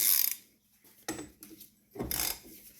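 A ratchet cracking loose the oil filter housing on a BMW E46 3 Series during an oil change, giving a few short, close mechanical clicking bursts separated by quiet pauses.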